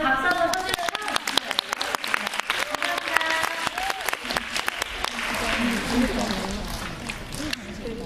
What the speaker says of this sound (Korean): 모델분한테 조금 위안해서 박수 한번 쳐주면서